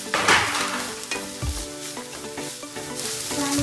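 Chopped onion stirred and frying in a pan for a Kerala bitter gourd thoran, with steady sizzling and scraping strokes of a spoon against the pan, close and continuous, under a faint musical background.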